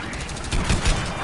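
Several quick bursts of video game gunfire crack out over about half a second, loud against a steady background, with a voice faintly present.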